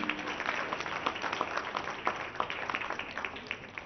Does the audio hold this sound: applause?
yes